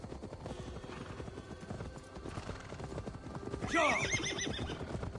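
Steady clip-clop of horse hooves at a walking rhythm in the video game Assassin's Creed Valhalla, then a loud whinny near the end, with no talking.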